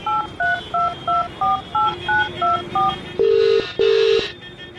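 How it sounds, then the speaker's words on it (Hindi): Touch-tone keypad tones as a phone number is dialed on a mobile phone, about ten short evenly spaced beeps followed by two longer ringing tones, clear and alone. "उस नंबर को अपने फोन से कॉल किया।"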